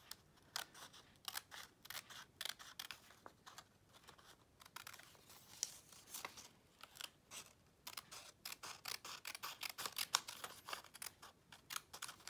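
Quiet, close snipping of Cutter Bee craft scissors cutting paper for an envelope window, a steady run of crisp little cuts with short pauses between them.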